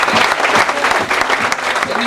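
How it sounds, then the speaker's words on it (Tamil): An audience applauds drama performers at a staged Tamil play, dense steady clapping filling the whole stretch at close, even loudness. "இதை பழக்கி கொடுத்தவர்களுக்கு நாம் ஒரு முறை கரகோஷம் கொடுத்து"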